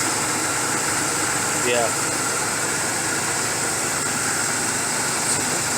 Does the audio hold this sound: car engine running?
yes